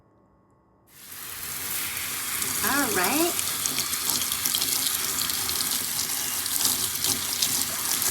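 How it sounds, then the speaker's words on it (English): Shower water running steadily while hair dye is rinsed out, starting abruptly after a moment of quiet and continuing as a constant hiss and splash, with a brief spoken word near the start. "I'm going to rinse this out in the shower"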